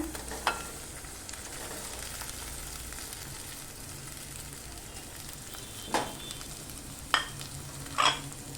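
Potatoes dropped into a pan of cumin and chilli frying in oil for a fasting-style potato dish, a steady soft sizzle broken by a few sharp scraping stirs near the end.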